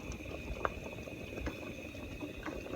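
Water boils in a pot for dried rice noodles with a soft continuous bubbling and a few sharper pops, heard faintly over a steady background hum.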